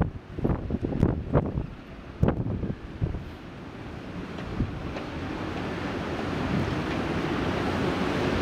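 Ocean waves and surf rolling in at English Bay during a kiteboarding session, with a steady wash of wind noise and a few sharp splashes and thumps early on before the roar evens out.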